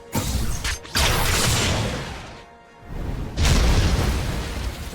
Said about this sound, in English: now that we're able to fire with our full complement of 2 weapons